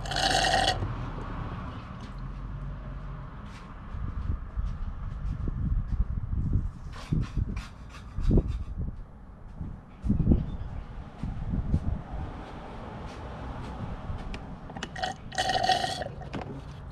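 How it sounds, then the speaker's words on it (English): Old brake fluid is sucked from the master cylinder of a 2004 Nissan Sentra, producing quiet irregular gurgles, slurps and bubbling bursts with brief squeaky clicks in a calm workshop. "first I'm going to be sucking out the old brake fluid from the master cylinder"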